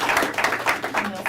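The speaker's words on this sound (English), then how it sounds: "Round of applause." Applause at a county board of commissioners meeting, a steady spread of clapping from the room that fills the whole moment, with no voices over it.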